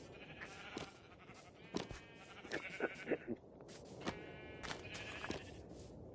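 Sheep in Minecraft bleat in short repeated calls, several overlapping bursts spread across the clip against a steady background hum, with no talking.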